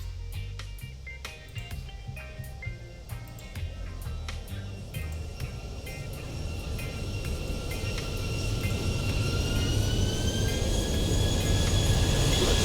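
A Boeing 737 coming in to land in the Vatsim flight simulator, a steady engine roar swelling gradually louder with rising turbine whine tones and scattered clicks, no talking.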